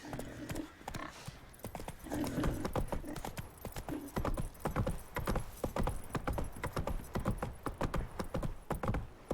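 Horse hooves clip-clopping at a brisk, steady rhythm while riding along a road in The Witcher 3: Wild Hunt, close and continuous, with faint game sounds in the background.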